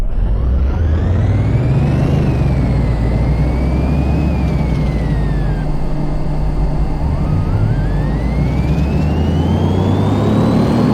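A car engine in the Car Mechanic Simulator game revs loudly at a drag strip, its pitch climbing, dipping and climbing again as it accelerates through gears, with a steady roar and no talking.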